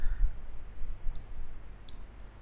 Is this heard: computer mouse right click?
yes